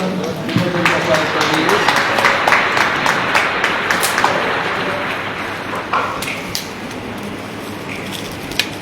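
An audience at a Hindi poetry gathering claps for a renowned poet, a crowd's dense applause that swells early and then slowly thins into scattered claps.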